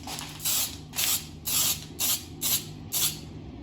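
Edge primer sprayed from a shaken aerosol can onto turn-signal parts of a VW Baja Beetle: six short, crisp hissing bursts, evenly spaced and close by, with quiet pauses between them.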